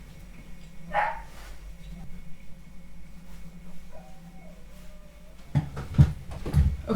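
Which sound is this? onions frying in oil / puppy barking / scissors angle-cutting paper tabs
puppy barking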